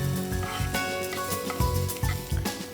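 Cashews frying in hot oil with cumin seeds and bay leaf, a steady close sizzle and crackle with soft stirring knocks and scrapes in the pan.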